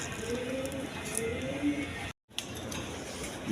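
Khaki pigeons held for sale coo softly in the background amid a steady room hum, with a brief silent break partway through.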